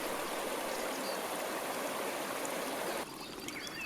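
A stream flows steadily, a continuous rushing babble of water that softens slightly near the end.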